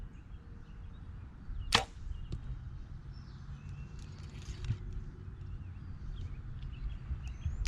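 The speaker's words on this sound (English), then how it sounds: "those arrows are flying pretty good" Single arrow released from a bow outdoors, a sharp snap and whoosh near the start, followed by a faint distant impact, over steady background ambience.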